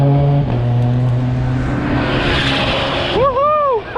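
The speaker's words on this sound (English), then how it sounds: "and again you can see the cars next to you, you can hear them" Race cars run along the Nürburgring near the Brünnchen section, engines droning and rising in pitch as they pass close by an e-bike rider, with a loud whooping sweep at the end and some talk mixed in.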